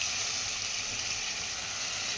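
Ground crab masala paste being poured into a hot cooking pot for a sea crab curry, giving a steady, close hiss and sizzle of wet liquid throughout, with no talking.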